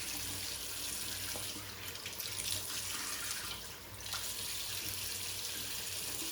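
Tap water runs steadily into a sink for a face wetting before a shave with a La Toja shave stick, a continuous close hiss with no talking.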